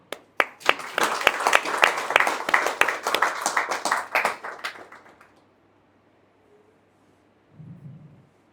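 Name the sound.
audience applause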